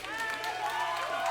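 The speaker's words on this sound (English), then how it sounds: "Everybody clap for Billy." Crowd clapping and cheering for the bassist Billy at a live rock show in a brewery, a dense burst of applause with whoops mixed through it.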